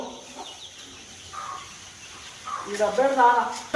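Native country hens on a farm cluck in short bursts, a few close calls rising toward the end over a quiet background.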